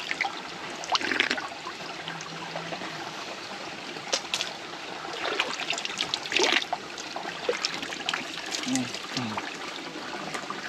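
River water flowing steadily at the end of a river, a continuous close trickling and gurgling stream with scattered splashy bursts and a few faint voices in the background.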